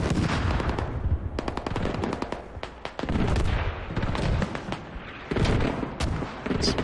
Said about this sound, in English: A lot of mortar play.